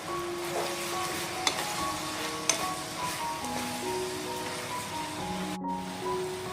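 Chopped medium tomato frying in oil with ginger garlic paste for a fish kalia, a steady close sizzle with a couple of sharp spatula taps.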